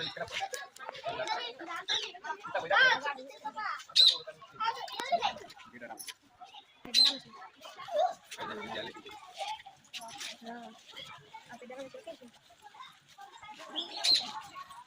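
Small birds chirp in short, bright bursts at Pillala Marri, a historical site in Mahabubnagar, scattered through a busy outdoor scene while people talk nearby and children's voices mix in.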